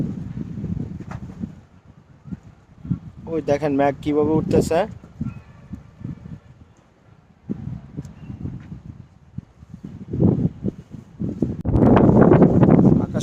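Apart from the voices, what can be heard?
strong wind blowing during a storm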